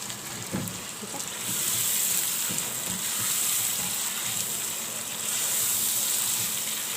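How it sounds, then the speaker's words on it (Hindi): Minced meat fries with spices in a pan for a spinach keema curry, a continuous close sizzle that swells and eases with a few soft stirring knocks. "मसालों के साथ अच्छे तरीके से कीमे को पकाएंगे"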